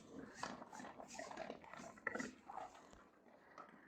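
A dog runs and makes short, repeated barks and yelps outdoors on a snowy day, fairly faint and a little distant, with no one talking.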